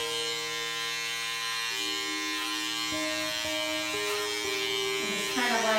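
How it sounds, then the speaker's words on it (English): An electric hair clipper cutting an undercut gives a steady close-up buzz, its pitch shifting slightly as it moves through the hair, with no talk. "So now I'm going to use my clipper."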